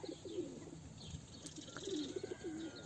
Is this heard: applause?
no